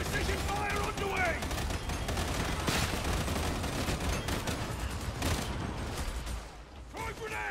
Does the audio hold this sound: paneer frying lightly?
no